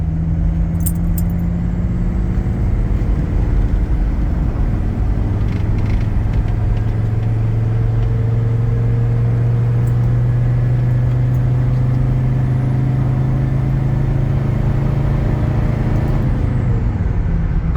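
A Mercedes diesel engine in a worn parts car roars steadily at full throttle, a loud, close, sustained drone with a slowly rising pitch and faint rattles on top.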